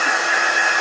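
A handheld dryer blowing on part of a handmade index card journal page, a steady loud airy whir held without change for under a second.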